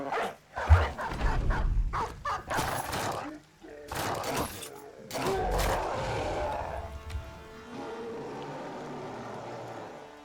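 War dog in the video game Battle Brothers barking in a few sharp bursts amid battle clatter and impacts, with someone talking over it.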